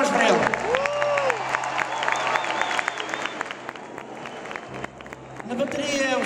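Audience applause for a musician during a concert, a steady wash of clapping with a few cheers, voices mixed in throughout.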